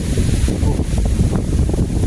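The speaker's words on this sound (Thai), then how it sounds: "โอ้ยลมแรงด้วยครับ" Strong wind buffets an outdoor microphone in a loud, constant low rumble that covers the whole moment, with no other sound standing out.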